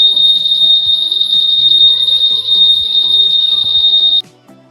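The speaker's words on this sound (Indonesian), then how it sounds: "menandakan aktifnya alarm anti maling" A Honda Vario 150 motorcycle's anti-theft alarm blares a piercing, steady high-pitched tone loudly for about four seconds, then cuts off abruptly, leaving faint background noise.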